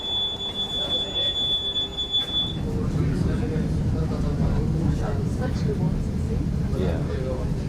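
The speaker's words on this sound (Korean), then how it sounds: "나는 노면 열차인 트램에 올라선다." Riding aboard a tram in Prague in winter: a steady low rumble of the moving car with wheel and track noise, a faint squeal early on, and a voice speaking over it.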